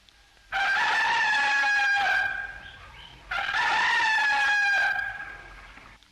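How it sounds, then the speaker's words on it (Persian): A rooster crows twice in long, loud calls, each rising and holding before trailing off, with a short gap between them over quiet outdoor background. "صدای خروس بود."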